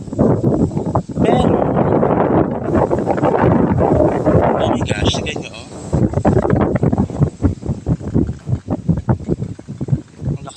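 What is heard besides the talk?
strong wind at a construction site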